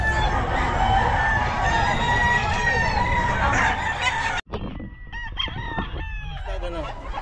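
A stag gamecock crows loudly and close among other roosters and clucking fowl at the busy Bocaue pet market, followed by scattered squawks and cackles after a brief cut.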